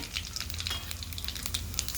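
Steady frying sizzle of cumin and mustard seeds in hot oil, with light crackles scattered through, close and fairly quiet, no voices.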